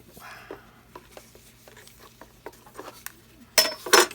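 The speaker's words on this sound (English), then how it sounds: "give this a real good stir" Acrylic pour paint stirred in a cup with a knife, soft repeated taps and scrapes ticking in a loose rhythm, then two louder rattling scrapes near the end, close and quiet overall.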